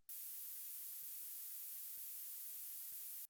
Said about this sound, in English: So this is a white noise, and without all the effect, it sounds like this.